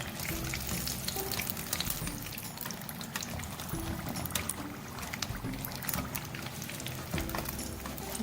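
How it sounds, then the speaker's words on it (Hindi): Chicken samosas deep frying in hot oil give a steady, dense bubbling crackle that runs evenly throughout, close and moderately loud, with no voices over it. "बाकी समोसे जो रह गए हैं वो भी सेम इसी तरह हम फ्राई कर लेंगे"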